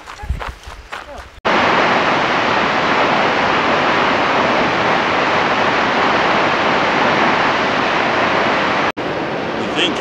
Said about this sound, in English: Stats Falls, waterfall number 4.